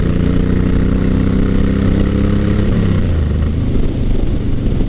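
A Suzuki C90T motorcycle rides along with a steady, loud engine drone that climbs in pitch as it speeds up, its tone shifting partway through as the rider pulls away, with constant wind noise.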